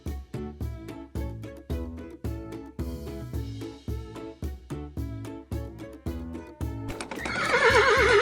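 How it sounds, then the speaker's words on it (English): A horse lets out a loud whinny near the end, rising over rhythmic background music that plays throughout. "Now we have the horse."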